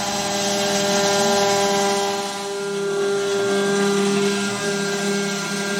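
A CNC machine steadily mills an aluminium connecting rod for an internal combustion engine, taking light cuts with a close, constant whine and a faint swell midway, with no talk over it.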